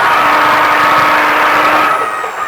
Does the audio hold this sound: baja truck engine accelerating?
yes